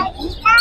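Bright, high bird chirps burst out briefly after a stretch of murmured talk and background noise at the Tongi Bazar bird market.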